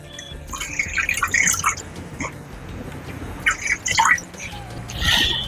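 Water poured into a pan of fish curry with fried spices, giving short splashing and trickling bursts, with someone talking between the pours.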